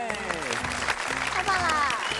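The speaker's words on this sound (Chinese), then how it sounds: "再一次把掌声送给我们的小朋友们" Studio audience applauding the children on a Chinese kids' TV show, steady clapping filling the whole moment with a host's voice and music running over it.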